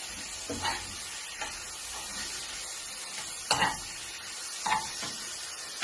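Salted tuna filling stirred in a pan for a tuna pie, a quiet scraping and faint sizzle with a few soft spoon strokes spaced out over several seconds.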